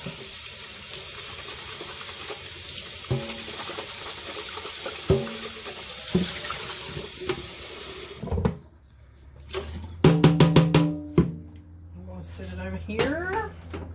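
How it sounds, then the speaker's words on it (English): A jug rinsed under a running tap, with a steady hiss of flowing water and clunks against the sink before the flow stops, under a speaking voice. "I'm going to rinse this jug out too"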